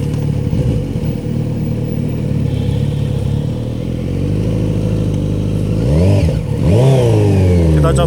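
Kawasaki Z900 RS motorcycle engine idling with a deep lumpy rumble, then revving hard as it accelerates, pitch climbing in a couple of loud surges near the end, close by.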